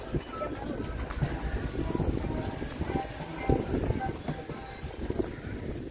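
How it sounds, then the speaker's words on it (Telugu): Strong wind on a hill trek near Pushkar buffets the microphone in loud, uneven rumbling gusts, with steady roaring noise throughout. "సో గాలి కూడా విపరీతంగా ఉంది."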